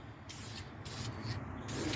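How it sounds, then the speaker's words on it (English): A spray can applies primer onto an engine valve cover in three or four sustained hissing bursts separated by short pauses, close and fairly loud. "And just spray it on there."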